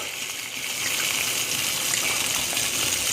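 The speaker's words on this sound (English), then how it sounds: "what I'm going to do is I'm going to deglaze this pan" Merlot wine is poured into a hot pan of beef short ribs to deglaze it, giving a steady hissing, gushing rush that swells after a brief start and holds, close and fairly loud.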